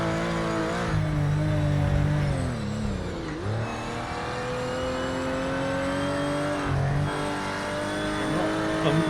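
A Porsche race car engine in Project Motor Racing revs steadily up and down through the gears, with a brief lift and dip midway, staying close and loud throughout.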